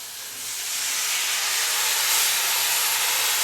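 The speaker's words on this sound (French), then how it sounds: "on va déglacer donc avec notre vin blanc" White Riesling wine is poured into a hot cast iron pot to deglaze it. It gives a broad, steady hiss that swells in the first second and holds loud and close.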